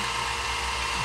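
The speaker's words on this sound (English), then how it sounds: "we push the drill all the way down so that the little protrusions on the pindex pins can be countersunk" A dental lab drill running steadily as it countersinks holes for pindex pins in a dental model, producing a continuous high-pitched whine that stays level throughout, close by, with no voices.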